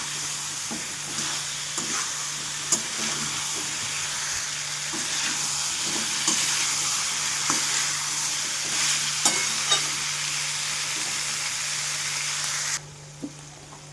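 Drumstick pods sauté in salt and spice masala, a continuous hissing sizzle with soft intermittent stirring knocks, dropping suddenly quieter just before the end.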